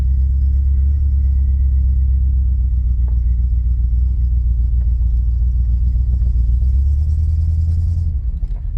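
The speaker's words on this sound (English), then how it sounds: "I have a cylinder that's not firing all the time" Car engine with a cylinder that intermittently fails to fire, a steady close low rumble idling and running with faint irregular stumbles, rising slightly in pitch near the end.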